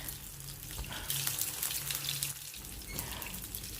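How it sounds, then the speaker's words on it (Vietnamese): Vegan beef slices sizzle steadily in hot oil for a stir-fried bitter herb dish, a dense, bright crackling hiss that continues without a break and swells slightly at times. "Thì quý vị cứ bỏ hết và lần lượt tất cả những cái phần thịt bò chay mình vào chiên nha quý vị."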